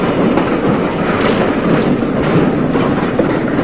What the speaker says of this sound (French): ce qui permet de pousser le train à la butte à une vitesse constante de 4 km 800 à l'heure